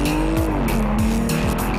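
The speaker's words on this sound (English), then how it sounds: "Their exhaust notes are among the most recognizable in the world." An Aston Martin sports car being driven, its engine note rising and shifting pitch through gear changes, loud, close and continuous with a sustained roar and no talking.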